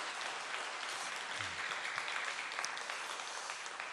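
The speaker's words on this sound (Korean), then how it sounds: "우리 하나님께 영광의 박수를 하십시다" A church congregation at a Sunday service applauds, a steady, continuous wash of many hands clapping at a moderate distance, with no talk over it.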